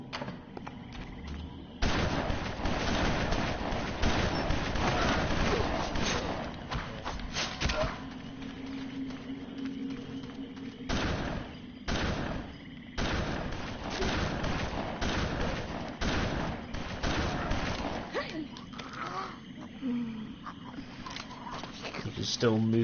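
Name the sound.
gunfire in video game BloodRayne ReVamped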